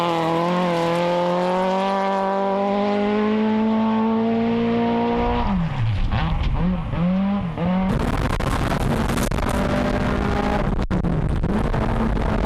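Onboard a two-wheel-drive Nissan rally car on a stage: the engine rises steadily through the revs, then snaps through quick gear changes and repeated throttle blips. It is loud and close, with broadband road and gravel noise filling in later.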